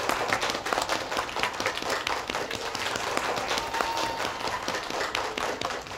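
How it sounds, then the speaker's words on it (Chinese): A classroom of students claps for a classmate in a steady, dense patter that stays moderately loud throughout without a break. "让我们用最热烈的掌声，预祝月红取得好成绩"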